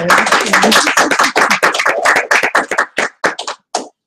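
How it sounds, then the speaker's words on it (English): A classroom group claps for one another at a lesson, a dense burst of many hands that thins into scattered, separate claps and trails off over about four seconds. "can we give each other a round of applause"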